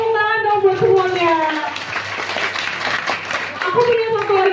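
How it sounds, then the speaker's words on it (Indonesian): Schoolchildren clap their hands during a school assembly visit, rapid group clapping heard beneath excited children's voices and shouting. "Tepuk tangan dong buat semuanya."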